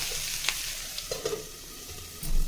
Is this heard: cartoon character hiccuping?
no